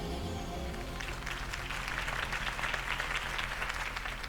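Video game crowd applause from Batman: The Telltale Series, dense clapping building into a sustained roar that carries on throughout without pause.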